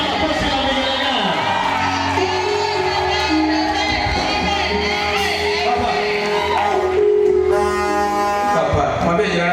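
A church congregation at a Sunday service claps and cheers loudly throughout, with whoops and shouts blending into music and voices in a full, busy room.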